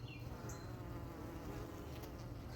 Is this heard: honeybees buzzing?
yes